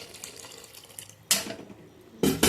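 Water pours into a cooking pot for a semiya breakfast, with quiet trickling followed by two louder gushing bursts close to the microphone.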